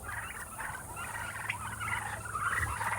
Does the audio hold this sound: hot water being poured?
no